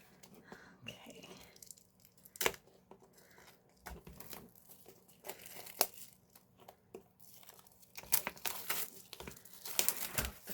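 Plastic shrink wrap is peeled and torn off a K-pop album, giving close, quiet crinkling and sharp tearing bursts at irregular intervals.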